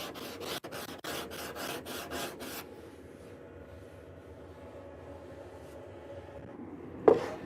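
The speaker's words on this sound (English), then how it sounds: "spend a few minutes with a sanding block with some sandpaper attached just to smooth out these curves" Rhythmic rasping strokes of sandpaper on a hand sanding block smoothing curved wood, about ten quick passes, then quieter scraping and a sharp knock near the end.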